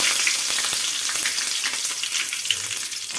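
Curry leaves frying in hot oil in a pan give a loud, steady crackling sizzle with sharp pops throughout, and no one speaks.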